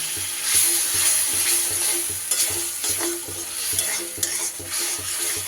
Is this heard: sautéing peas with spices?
yes